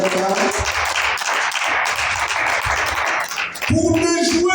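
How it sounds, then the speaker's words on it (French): Church congregation clapping in rhythm during a service, steady hand claps filling the room with a rough, even beat, voices mixed in underneath and a singing or speaking voice rising near the end. "Let's clap on the word of God."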